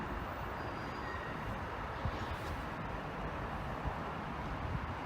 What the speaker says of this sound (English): because of a fault on a train that's now approaching